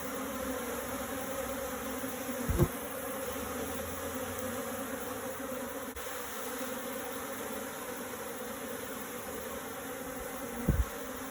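African honeybees at the front of a hive fan their wings, making a steady, dense, close buzz that holds level for several seconds, broken by two brief dull knocks, with no talking.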